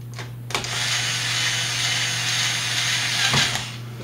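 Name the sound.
weak power drill driving screws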